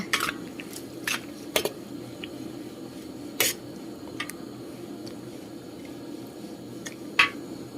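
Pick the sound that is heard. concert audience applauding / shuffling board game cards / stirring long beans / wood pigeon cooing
stirring long beans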